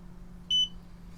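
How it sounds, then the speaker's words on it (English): A single short electronic multimeter beep, clear and fairly loud, sounds while a capacitor charges during testing of a Meanwell RT-65B power supply, over a low steady hum. "So that little beep is probably a capacitor charging up."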